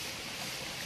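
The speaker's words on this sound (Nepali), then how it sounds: "यहाँ त खोला बग्छ नि" A village stream flowing near a water spout, a continuous broadband rush of running water heard alone at steady loudness for a brief moment.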